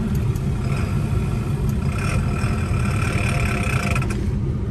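A 2001 Ford F550 XL with a six-speed manual transmission lugs its engine after pulling away in too high a gear, giving a loud, steady low rumble with a strained, labouring tone throughout.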